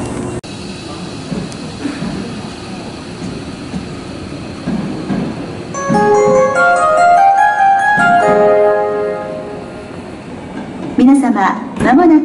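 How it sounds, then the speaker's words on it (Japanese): A Hankyu Railway train rumbles steadily into a station platform at Nishinomiya-Kitaguchi. A melodic chime and a public address voice come over the noise midway, and a brief squeal follows near the end. "まもなく3号線に電車が到着します。"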